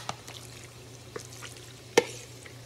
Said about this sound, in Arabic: الحين يلا نروح نقلي أو نحمر الدجاج. هنا ضروري يكون المقلى جدا جدا ساخن، بنحط الدجاج